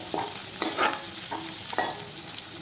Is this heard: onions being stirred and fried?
yes